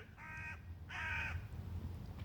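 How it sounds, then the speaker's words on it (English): Crows caw outdoors, two harsh nasal calls in quick succession from a moderate distance, followed by quieter ambient outdoor noise. "there's a crow squawking in the video."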